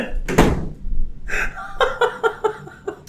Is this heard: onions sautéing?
no